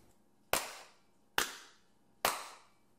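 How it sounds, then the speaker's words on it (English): Three sharp hand claps spaced evenly about a second apart, crisp and close, each with a short decaying room echo, in an otherwise quiet room. "We do the three claps, right?"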